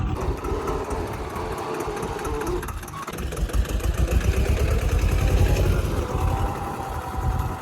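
A tractor's diesel engine runs steadily up close, a continuous rumbling chug that swells slightly louder in the second half.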